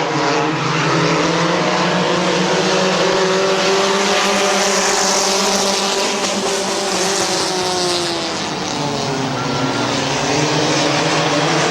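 Compact race cars battle for the lead side by side coming off turn two at Midvale Speedway, engines droning loud and continuous as the pack sweeps past, pitch rising and falling without talk.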